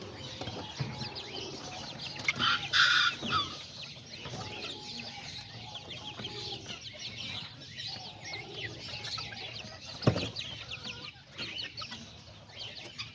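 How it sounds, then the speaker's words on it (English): Small short-legged girito roosters and hens cluck and murmur nearby in a steady flock chatter, with a brief louder burst of calls early on and a sharp clatter partway through. "There's a lot of nice little girito roosters right here."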